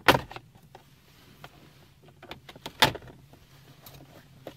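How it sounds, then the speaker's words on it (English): A plastic dash panel on a Honda Civic is pried loose with a panel tool, giving two sharp snapping pops, the second near the middle, with small clicks and rattles between. "use a panel tool, and just gently pry back all around."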